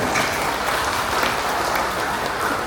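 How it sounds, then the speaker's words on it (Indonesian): A crowd at a police legal-outreach session claps steadily, dense and even applause filling the whole stretch at a fairly loud level without speech. "Tepuk tangan."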